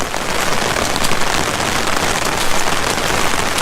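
A downpour of flood-level rain beats down hard on a flooded driveway, a thick, steady roar of drops hitting close and loud throughout, with no voices.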